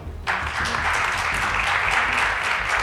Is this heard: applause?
yes